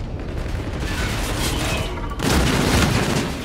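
Gunfire and explosions from the video game Call of Duty: Infinite Warfare, a dense continuous rumble of shots and booms that swells louder about two seconds in, with no voices.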